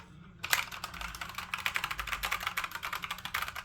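Rapid, continuous typing on a Dareu wireless ergonomic mechanical keyboard, close and crisp, with dense clacking keystrokes starting after a short silence and running steadily to the end without speech.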